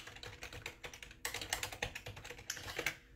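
Rapid, irregular keystrokes on a computer keyboard, clicking steadily and close up for a few seconds with no talking over them.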